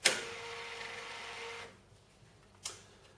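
The printer cover on a Sharp XE-A213 cash register is shut, first with a sharp plastic snap and a rasping slide lasting about a second and a half, then a second crisp click as it locks in place.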